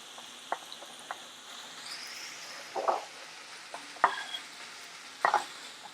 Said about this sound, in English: The mince is more or less done, so this is the point to add the garlic.